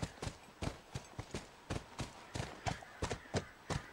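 Horse hooves clip-clop in The Last of Us, a steady run of sharp, evenly spaced hoofbeats close up and fairly loud, with no talk over them.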